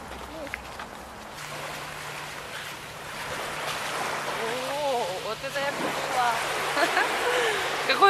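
Sea waves wash onto the sand of an island beach on Samui, a steady broad surf rush growing slightly louder, with someone talking over it.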